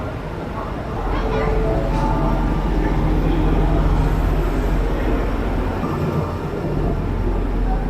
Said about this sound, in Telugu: చాలా చిన్న ట్రైన్ ఇది.